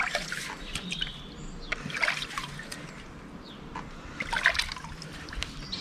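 A bicycle inner tube is held under water, giving soft trickling and bubbling with small splashes and sloshes, faint and close, in irregular bursts.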